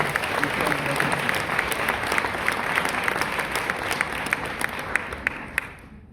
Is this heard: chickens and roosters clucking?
no